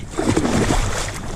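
A splash and slosh of water as someone jumps in while spearfishing off a boat, a brief churning burst close by and loud.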